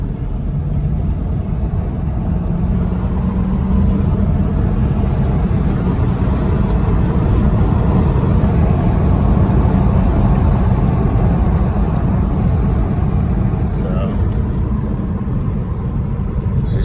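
A 2004 Acura MDX with 200k miles drives under steady acceleration, its engine a continuous low rumble with road noise from inside the cabin, no voices heard.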